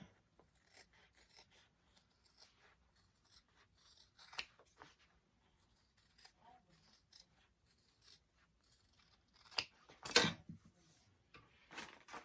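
Scissors snip the corners of a sewn fabric pouch: faint, sparse cuts and rustles in a quiet room, with one sharper, louder snip partway through.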